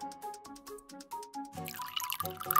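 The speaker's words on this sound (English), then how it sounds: "Pour juice in this cup." Juice is poured into a cup in an animated kids' cooking scene: a run of light drips and plops gives way to a brighter, fuller pouring splash as the cup fills, with soft musical tones underneath.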